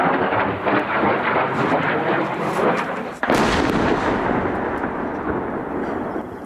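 A Russian KH-31 tactical missile explodes on the ground about 600 metres away. Its sharp blast cuts into an ongoing heavy roar and leaves a loud, broad rumble that lingers.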